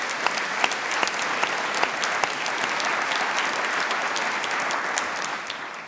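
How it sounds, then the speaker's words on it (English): A conference audience gives hotel and chamber staff a round of applause, dense and sustained clapping from a big crowd that fills the whole stretch and carries no voices. "So let's give them our round of applause too."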